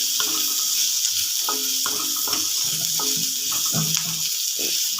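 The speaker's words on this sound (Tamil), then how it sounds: "இப்போ இதை நல்லா நம்ம ஃப்ரை பண்ணிக்கலாம்" Ingredients fry in a pan for drumstick leaf thogaiyal, a steady close hiss of sizzling oil punctuated by irregular stirring scrapes and taps.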